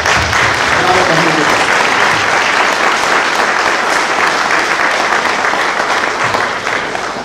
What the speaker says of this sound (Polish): Państwo również tym paniom wdzięczni będziecie i podziękujecie gromkimi brawami